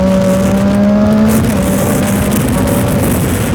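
A Triumph Daytona 675 sport motorcycle engine, loud and close, revving on the throttle with a sharp rise in pitch, then holding a dense, raspy roar.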